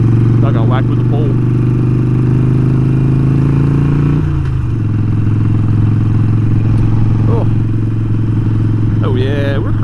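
A custom Harley-Davidson Sportster Forty-Eight riding along with a loud, close, steady engine drone whose pitch drops partway through as it shifts. Riders talk over the rumble.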